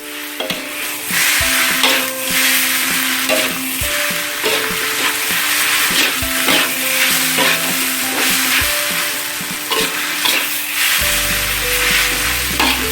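Kwetiau flat rice noodles sizzle loudly in a hot wok while a utensil scrapes and clanks in steady, repeated stirring strokes, close up, with no talking.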